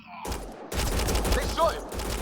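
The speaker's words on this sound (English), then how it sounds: "They shot him." A dense, steady fusillade of rapid gunfire rattles on for about two seconds in a Mass Effect: Andromeda firefight, loud and close, with a brief higher whine partway through.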